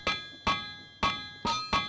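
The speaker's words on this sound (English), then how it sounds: "It's hammering again." A steel ingot is hammered in a video game: five sharp metallic strikes at an uneven pace, each ringing with a bright tone that decays before the next, close and clear with no talking.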